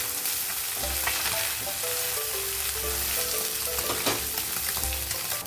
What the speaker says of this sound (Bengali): এভাবেই করে উল্টা সাইডটাও ভেজে নেবো হালকা